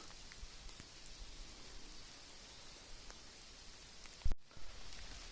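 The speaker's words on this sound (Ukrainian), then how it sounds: "почав дощик накрапати" Light rain begins falling in a Carpathian mountain forest as a faint, soft patter and hiss, with a single sharp knock and brief rustle near the end.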